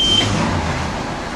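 A cold carbureted engine with the choke on, running rough and steady at close range, a low droning rumble with a brief high whine at the start.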